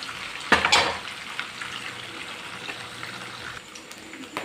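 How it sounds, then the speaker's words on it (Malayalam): Beef frying in sesame oil over a medium flame gives off a continuous, moderate sizzle. A sharp burst of crackling and clatter comes near the start, then it settles into a steady, softer hiss. "4-5 മിനിറ്റ് ഒന്ന് വറുത്തെടുത്താൽ മതിയാവും."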